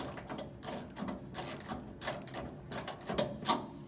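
A ratchet wrench loosens the tension bolts on a Loyal 23-bushel manure spreader's apron chain assembly. It gives quiet, uneven bursts of close metallic clicking, alone with no talk.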